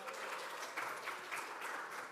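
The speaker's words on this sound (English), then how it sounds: "can we give a round of applause to our digital expert?" A church congregation at a worship service claps in a soft, continuous patter of many hands, faint and even with slight swells and no speech.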